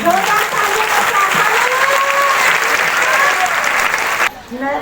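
Congregation at a Sunday healing prayer meeting clapping loudly and continuously, dense sustained applause with voices mixed in, cutting off abruptly near the end.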